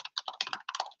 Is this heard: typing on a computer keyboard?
yes